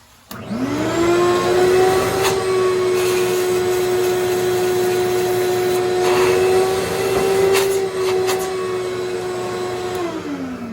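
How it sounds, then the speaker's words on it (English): A power sander smooths the freshly drilled holes of a bowling ball, its steady, loud motor drone spinning up at the start, holding level for about ten seconds, then winding down near the end. "I just hit it with the sander just to make sure I got no more round edges and everything is flat"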